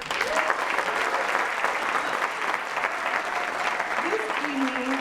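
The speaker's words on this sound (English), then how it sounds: "Can I have an applause?" Sustained audience applause in a theatre after a thank-you to the playhouse, even and continuous clapping throughout with a few voices faintly audible beneath.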